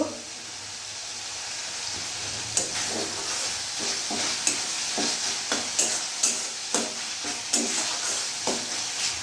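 Tomato and spice masala fries in oil in a pan under a continuous close sizzle, with a regular series of scraping knocks from the stirring spoon.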